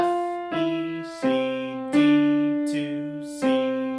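Piano notes from a piece, five single notes struck one after another at a slow, even pace, each ringing and decaying into the next, clear and close with no talking.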